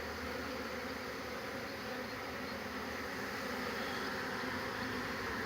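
A dense, steady buzzing of many honey bees flying around hives in an apiary, continuous and loud with no other sounds.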